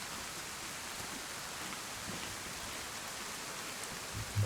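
Steady rain in the survival video game DayZ, a constant dense hiss of downpour that runs unbroken from start to finish with no voices over it.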